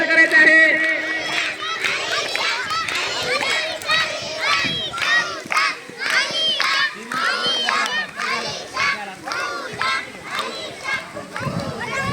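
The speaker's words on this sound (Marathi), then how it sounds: "टाळ्या वाजवा सगळ्यांनी, चेअर करा, चेअर करा आपल्या खेळाडूला" A crowd of spectators, many of them children, shouts and cheers loudly and continuously at a kho-kho match during a Republic Day school competition, with excited voices overlapping throughout.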